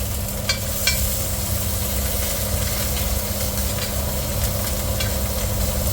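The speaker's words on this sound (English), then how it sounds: "So I'm going to try and give it a bit of a basting with that butter." Two rump steaks sizzling in a pan while being basted with smoky garlic and paprika butter, the frying hiss sitting under a loud, constant drone from a kitchen extractor fan, with a few faint utensil clicks.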